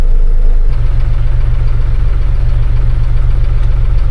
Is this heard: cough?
no